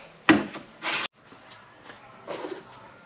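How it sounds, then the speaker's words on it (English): A hand plane shaves whisper-thin curls off a wooden charcuterie board, heard as two or three short, close rasping strokes separated by quiet pauses. "Try to take just whisper thin shavings"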